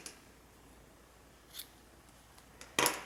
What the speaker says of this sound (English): you can go ahead and cut the yarn tail